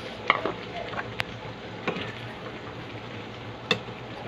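Chicken caldereta with carrots, green peas and garbanzos being stirred in a pan: soft scraping and a few sharp utensil clinks against metal over a low simmering background.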